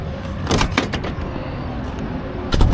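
The door of a brand new truck that won't latch properly is slammed shut, giving a few sharp close thuds and knocks over a low background rumble, with another loud bang at the end.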